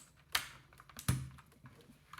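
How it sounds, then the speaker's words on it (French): A keycap is pried off a Battletron mechanical keyboard with blue switches, giving two sharp, close plastic clicks about a second apart in an otherwise quiet room. "J'essaye d'enlever une touche."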